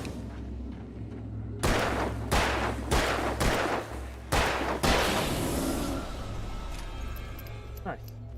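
Revolver shots ring out in the video game Alan Wake, five or six loud, sharp blasts spaced about half a second apart, each with a short echoing tail, followed by quieter game ambience.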